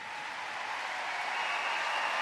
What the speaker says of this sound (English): Armada there, walking away, taking applause from the crowd